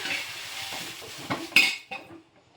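Chillies roasting in a pan and stirred, a soft close sizzle with a few clinks and scrapes of a spoon against metal that fade to quiet.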